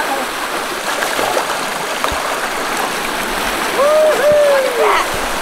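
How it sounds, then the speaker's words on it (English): A fast-flowing creek at a beaver dam rushes in a steady, loud, close wash of water, with brief splashes and a few faint high whistling or squeaking sounds near the end. "Look at the creek. Wow. It's going so fast now."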